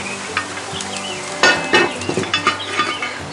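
Mirepoix vegetables with celery cook in a hot Dutch oven, crackling and sizzling steadily while a utensil stirs and clinks against the pot in a quick run of close, sharp scrapes.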